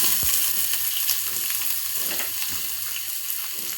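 Onions frying in a pan with peas for Rajasthani khichdi, a steady crackling sizzle with occasional stirring scrapes and small pops, close and continuous.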